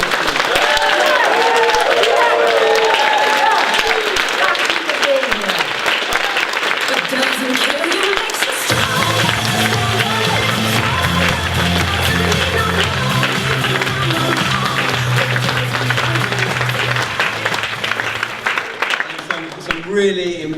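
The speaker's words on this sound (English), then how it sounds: "Please applaud yourselves for the miracle that is you." A room full of people at a members' night talk bursts into sustained applause after a speaker talks, with a humming musical tone running under the clapping.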